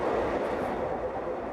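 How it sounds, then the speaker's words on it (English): A passenger train running inland from Maputo in Mozambique, a steady close rumble of the rail cars throughout with no talk. "We took a train from Maputo inland toward the South African border."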